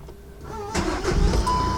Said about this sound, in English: when I turn the car on